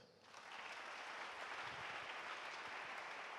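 Steady wash of applause from a church congregation, broad and sustained after a brief quieter start, with no clear voices on top.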